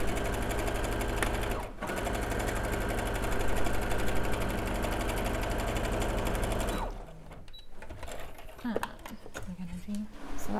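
A sewing machine stitches straight down the shoulder seam of a quilted jacket, a loud continuous rapid hum and needle clatter with a brief pause, then quieter handling noises and a voice speaking.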